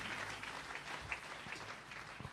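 A church congregation applauding during a Palm Sunday service, steady mid-distance clapping from many hands with no voices over it.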